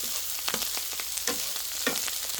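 Salted cucumber and chili stir-fried over high heat, a steady close sizzle with a few scraping stirs of a utensil against the pan, no voices.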